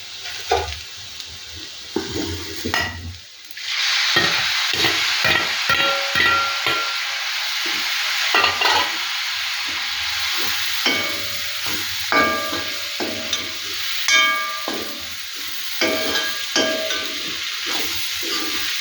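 Fresh clams frying in a hot pan for a spicy clam roast, a loud sustained sizzle and hiss broken by repeated scraping stirs of a ladle, close up with no talk.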